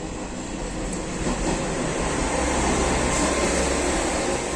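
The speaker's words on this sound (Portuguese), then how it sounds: "Comboio das 6." The six o'clock train rumbles past nearby, a loud, continuous heavy rail roar with a faint clatter that stays steady throughout.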